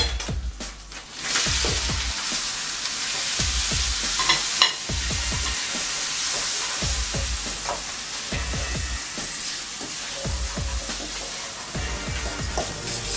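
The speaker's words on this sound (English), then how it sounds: "at this point, I'll let the prawns cook" Chilli prawns frying in a pan while being stirred: a steady close sizzle runs throughout, broken by repeated scraping strokes of a utensil against the pan, with no talking.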